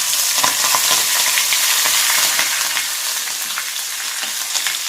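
Ajwain (omavalli) leaves sizzle in hot hair oil with a close, loud, continuous crackle and hiss that eases off slightly toward the end.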